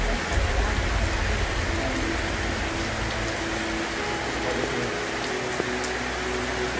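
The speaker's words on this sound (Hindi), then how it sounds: "बारिश हो रही है हल्की फुल्की" Light rain falls steadily outdoors beside a pond in Uttar Pradesh, India, a continuous soft hiss with a few faint drops on surfaces and a low rumble underneath, with no one speaking.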